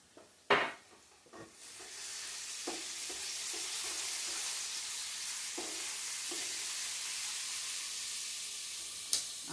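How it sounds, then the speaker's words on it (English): Oil and ingredients for lasagna sizzle steadily in a pan, punctuated by several scraping stirs and a few clanks of a utensil, with no talking. "Going to give that a little stir."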